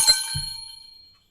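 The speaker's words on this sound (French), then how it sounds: "Mais on entend surtout un gai carillon" A cheerful carillon of bells rings out in a bright metallic chime, followed by a low ringing tone that decays steadily over about a second.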